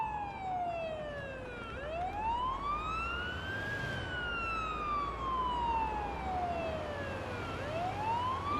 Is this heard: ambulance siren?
yes